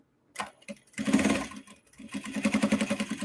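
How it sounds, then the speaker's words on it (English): Sewing machine stitching close to a stabilizer on a clutch wallet: a brief start, then steady rapid mechanical chatter that runs near and loud in bursts, no talk. "So now I still want to sew pretty close"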